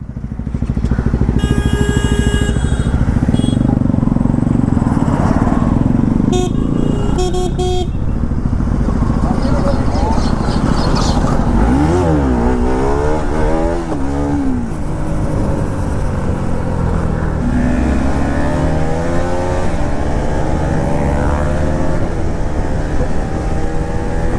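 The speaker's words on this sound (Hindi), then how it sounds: "अभी अपने साथ एक और RS200 और MT-15 ज्वाइन हो चुकी है।" Group of motorcycles including a Yamaha RS200 and an MT-15 on a street ride, engines droning loudly throughout with rising and falling revs and a few horn toots, heard under riders' talk.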